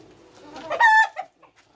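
Layer hens near the baskets where they lay eggs give a short, loud clucking squawk with a few softer clucks trailing after it, close by and without talk.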